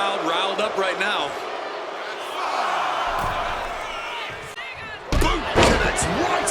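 A boot kick lands with a solid slam in the WWE 2K26 wrestling game, set against steady arena crowd noise and cheering, with a louder burst of impact and crowd reaction near the end.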